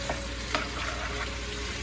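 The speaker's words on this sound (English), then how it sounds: "You can kind of hear it sizzling." Onions sizzle steadily in a hot pan, a constant crackling fry with a couple of faint clicks, close by and without talk.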